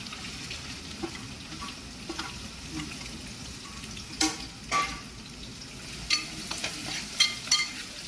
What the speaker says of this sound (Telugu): చూడు వేగింది కదా ఆయిల్, చిట్టుపట్లాడుతుంది కొంచెం కదా ఆయిల్